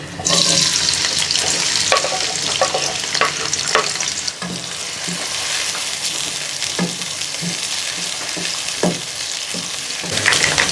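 Onions sizzling and frying in hot oil in a pan for matar pulao, a loud continuous crackling hiss with intermittent stirring scrapes and clinks, close up and alone.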